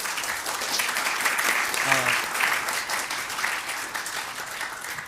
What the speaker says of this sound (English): So let's give a huge round of applause for Geet.